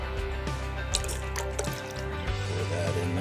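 Milk pours into a bowl of cracked eggs, a soft liquid trickle and dripping with small splashes that continues steadily through the moment at close range.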